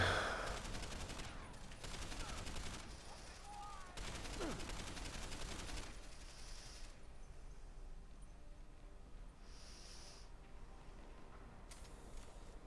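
Bursts of gunfire from the video game Deus Ex: Human Revolution, rapid automatic shots crackling loudly in the first seconds and then thinning to sporadic shots and mechanical clatter under faint background sound.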